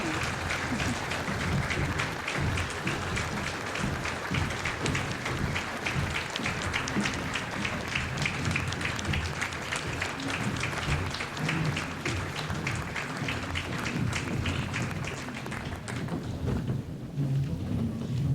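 A banquet crowd at an award dinner keeps clapping in a long, sustained ovation, a thick, rapid texture of many hands that stays loud throughout and thins slightly near the end.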